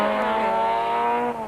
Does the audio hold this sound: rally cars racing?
yes